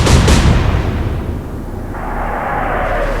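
Naval gun firing in the Atlantic Fleet game, a loud, heavy boom at the start that rolls into a long rumbling decay, close and alone.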